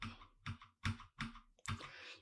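Computer keyboard keys clicking in a quiet room, five separate short taps spaced unevenly, close and soft.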